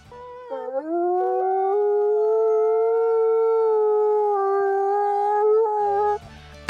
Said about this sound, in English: a wolf, the size of a yearling heifer, that used to be serenading about the walls